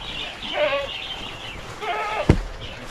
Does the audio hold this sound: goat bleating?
yes